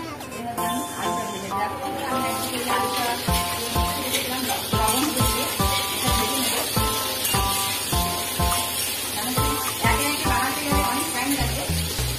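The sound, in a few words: onions frying in a pan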